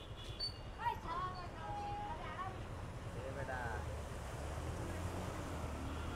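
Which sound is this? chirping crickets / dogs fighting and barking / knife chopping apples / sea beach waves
sea beach waves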